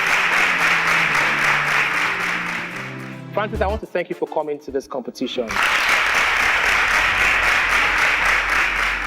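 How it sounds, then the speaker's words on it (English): An audience applauds a departing contestant on the InterswitchSPAK 4.0 quiz competition, clapping loudly and continuously, then breaking off while a voice speaks briefly before the applause swells again to the end. "Please, a round of applause for Kofo as she exits"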